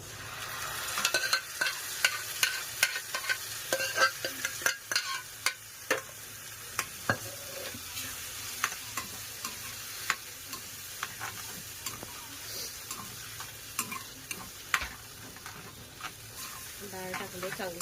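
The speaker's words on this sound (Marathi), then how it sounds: "डाळ टाकले, चांगले व्यवस्थित ढवळून घेऊया" A spoon stirs cooked dal in a hot pan for dal khichdi, giving repeated scraping and clattering strokes over a steady sizzle, fairly close and moderately loud.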